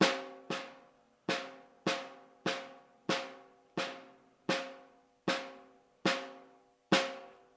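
A snare drum, its tension backed off about a quarter turn, is struck about a dozen times at an even, unhurried pace. Each crisp hit rings out and decays before the next, close and alone.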